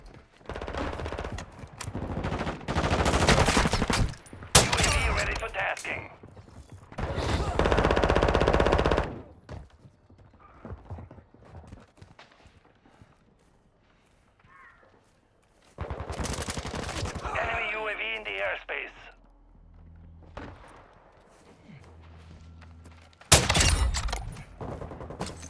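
Gunfire in a first-person shooter game: loud bursts of automatic fire in several long volleys, the first clustered near the start, another mid-clip and a short one at the end, with quieter electronic game sounds and low hum between.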